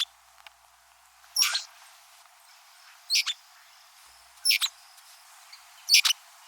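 A male Maria Preta de garganta vermelha sings four short, buzzy chirping bursts spaced about 1.5 seconds apart, clear and alone with no voices, the low end cut away.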